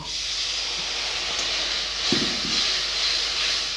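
Water poured into a hot pan of melted tomatoes and ground spices for a rohu and taro curry hisses steadily like steam, with a brief splash of the pour and no talk.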